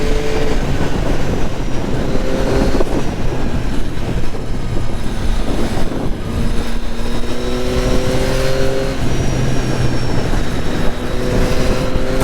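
Yamaha MT-09 motorcycle engine pulls steadily while riding on an A2-restricted bike, a loud continuous drone with rising and falling tonal revs and wind rush, no voices.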